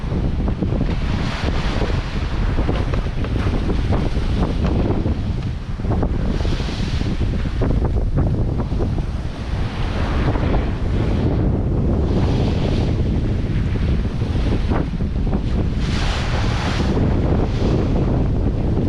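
Strong wind and rolling waves at sea aboard a sailing boat, a constant loud roar with buffeting gusts and surging water washing in and out.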